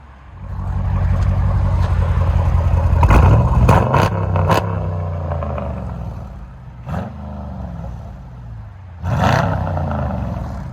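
A loud car engine revs hard several times through a deep, rumbling combined Carven and Borla ATAK exhaust, with sharp throttle blips and crackles between the pulls.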